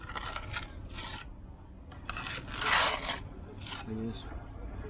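A trowel scrapes excess mortar off the back of a cinderblock in several rough, rasping strokes of varying length, close and moderately loud over faint background noise.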